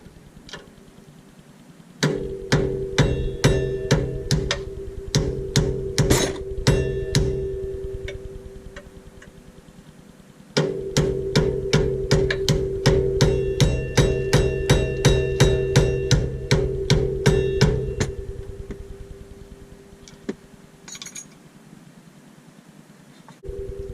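A hammer on a stubborn bolt while lowering a Honda CR-V, two long runs of rapid, regular metallic taps, loud and close, each lasting several seconds, with a pause between them.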